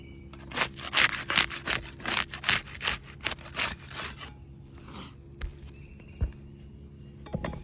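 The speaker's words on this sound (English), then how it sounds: "We'll use the putty knife to unseal the top shingle." Putty knife prying and scraping beneath sealed roof shingles, a run of rough scraping strokes with rhythmic bursts, then quieter scattered scrapes and taps.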